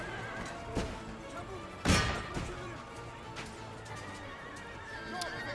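Horses whinny and neigh repeatedly amid clip-clopping hooves and a sharp crash during an Empire: Total War battle involving horse archers, with a voice talking underneath.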